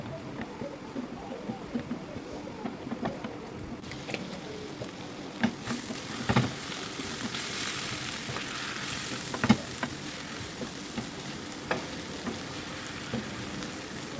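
Mutton brain masala fries on a tava or large frying pan with a constant soft sizzle, broken by scattered clicks and scrapes of stirring throughout.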